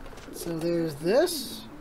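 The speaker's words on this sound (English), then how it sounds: "I'm surprised the pigeon doesn't just crap on Mario, right" A pigeon in the video game Super Mario Odyssey gives a clear, close, warbling coo made of two rising-and-falling phrases. A person speaks over it.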